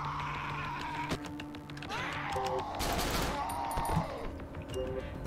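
Gunfire in the horror game Cry of Fear: a few sharp shots and a brief burst ring out amid murky game ambience and scattered effects, moderately loud.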